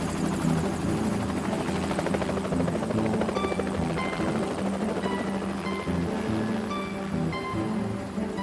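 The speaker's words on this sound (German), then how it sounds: "Der Hubschrauber hat viel Krach gemacht." A helicopter roars steadily at close range, its rotor thumping and engine droning loud and unbroken throughout.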